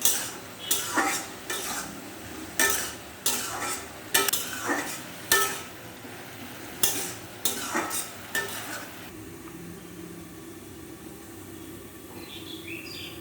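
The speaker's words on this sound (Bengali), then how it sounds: "নেড়ে নেবো।" Ash gourd frying with turmeric, chilli powder and roasted spices in a pan, stirred with a utensil: a dozen or so sharp scraping strokes in quick bursts over a steady sizzle, then the sizzle continues alone.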